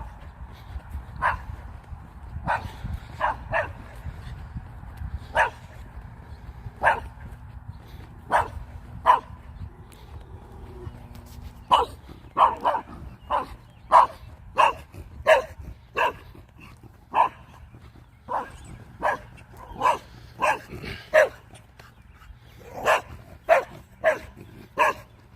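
A dog barks repeatedly during a late-night walk, loud sharp barks in irregular bursts that grow closer and more frequent in the second half, with no talking.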